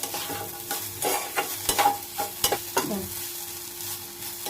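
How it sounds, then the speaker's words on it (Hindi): Capsicum and other vegetables sauté in a pan, with a soft sizzle under repeated clanks and scrapes of a spatula stirring at an uneven rhythm. "तो इसे हम हल्का सा सौटे करेंगे।"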